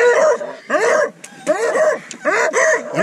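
Beagle pups barking and yipping on a hunt, several bursts of lively overlapping baying spaced through the stretch, fairly close and loud.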